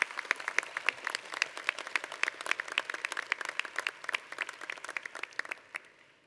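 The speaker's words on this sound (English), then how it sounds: "Let's give all of these incredibly talented people a round of applause" Audience applause for a group of musicians at a college presidential inauguration ceremony comes through as scattered, crisp individual claps, fairly soft and somewhat distant, tapering off toward the end.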